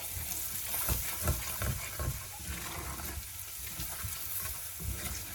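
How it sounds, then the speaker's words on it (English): Curry paste frying in a pan for a peanut butter curry, with a steady close sizzle punctuated by several scraping stirs. "and continue frying off"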